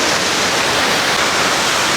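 Steady, dense roar of a waterfall near Kathmandu, loud and close with an unbroken hiss of falling water and no voices.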